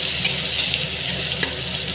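Onion and tomato fry in a pan with a steady, close hiss and a couple of brief scraping stirs, no voices.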